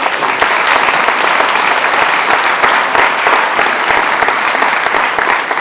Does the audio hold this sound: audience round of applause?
yes